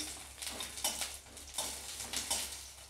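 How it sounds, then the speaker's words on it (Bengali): Lentil dumplings (bori), whole cumin and a bay leaf fry in oil, a faint low hiss broken by soft rhythmic surges of stirring and light utensil scrapes against the pan. "ফোড়ন দিয়ে এটাকে ভালো করে আমি ভেজে নেব"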